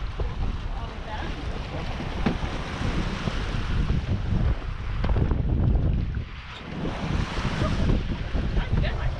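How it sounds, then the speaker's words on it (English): A sailboat running downwind at sea, with continuous wind rushing over the microphone and waves washing against the hull, rising and falling in loud close gusts. "We have wind, so downwind sailing is not too bad."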